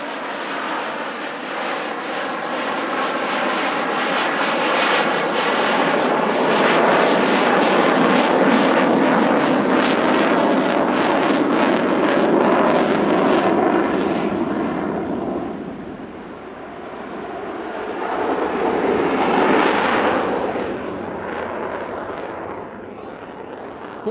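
An F-16 fighter jet flies a low-speed, high-alpha pass at an airshow: a loud, sustained engine roar swells as it nears, thins briefly, then surges again in a second burst.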